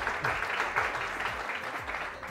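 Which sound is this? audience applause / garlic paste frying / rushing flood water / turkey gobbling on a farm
audience applause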